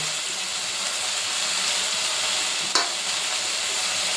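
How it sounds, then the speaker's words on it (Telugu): Curry leaves dropped into hot oil in a pan for a carrot, capsicum and potato curry, producing a steady close sizzle and frying hiss with one brief sharp crackle near the end, no voices. "కరివేపాకు కూడా వేస్తున్నాను ఇప్పుడే"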